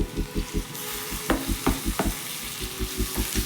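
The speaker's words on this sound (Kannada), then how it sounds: "ಟೊಮೊಟೊ ಕೂಡ ನೀಟಾಗಿ ಮೆತ್ತಗಾಗೋ ತನಕ ಫ್ರೈ ಮಾಡ್ಕೋಬೇಕು" Chopped tomato and vegetables fry for upma in a pan, with a steady close sizzle and rhythmic stirring scrapes, and a few sharper clinks of the spatula.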